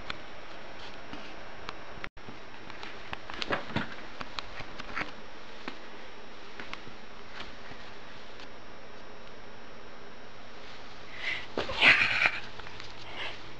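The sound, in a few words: cat attacking, meowing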